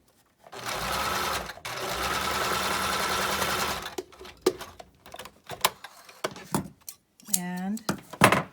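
A domestic sewing machine runs a zigzag stitch along the seam of a fabric face mask, giving a close, steady mechanical whir for about three seconds, followed by brief stops, restarts, clicks and handling noises, then a short bit of speech.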